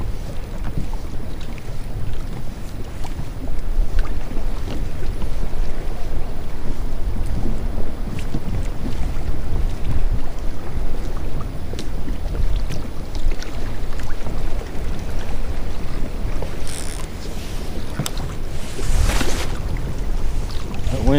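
Strong wind buffets the microphone outdoors during a baitcasting reel casting contest on open water, a continuous loud rushing gust with a few brief higher swishes near the end.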